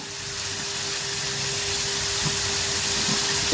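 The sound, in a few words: pakon pitha deep-frying in oil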